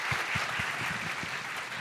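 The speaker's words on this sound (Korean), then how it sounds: "박수 부탁드리겠습니다." An audience claps at the close of a talk concert at a Korea Electric Power Corporation recruitment briefing for vocational high school students. The applause is faint, steady and continuous, with no one speaking over it.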